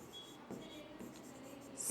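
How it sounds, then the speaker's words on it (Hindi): Chalk or marker strokes on a classroom board during a Hindi grammar lesson on sandhi, a steady scratchy scribbling that runs for a couple of seconds, close and moderately loud with no talk over it. "इसको यहां लिख देते हैं,"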